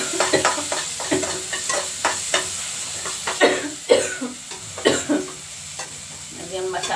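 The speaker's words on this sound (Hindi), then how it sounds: "अभी हम मसाला फ्राई कर रहे हैं।" Masala sizzles and fries in a pan at home while a spoon stirs and scrapes it in repeated sharp clanks and scrapes over a constant hissing frying bed, close and fairly loud.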